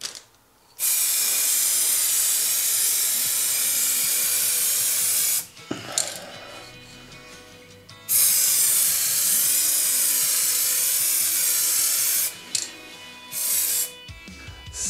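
Clear lacquer sprayed from about 20–25 cm over a water transfer print, heard as two long, steady hissing bursts separated by a pause with light handling noises, then short spurts near the end.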